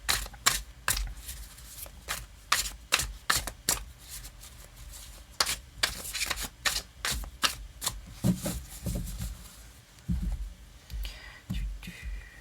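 A deck of tarot cards is shuffled close up in a string of quick, crisp riffling bursts, separated by short pauses, then rustling more loosely toward the end.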